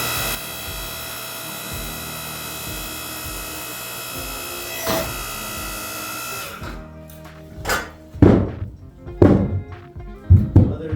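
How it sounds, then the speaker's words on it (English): Firewood being split outdoors on a homestead, a steady mechanical drone filling the first part, then several loud, sharp thunks of wood splitting in quick succession near the end. "Split that one again."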